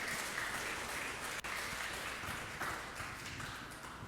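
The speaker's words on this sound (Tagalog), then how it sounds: "Lakasan natin yung palakpak para sa Panginoon ulit." A worship congregation applauds in a church service, a continuous dense wash of many hands clapping, steady and fairly distant, without talk.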